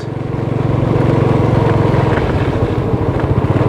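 Loud, close engine drone of a motorbike riding on Phu Quoc Island, Vietnam, with a throbbing rhythmic pulse, steady throughout with rushing wind noise.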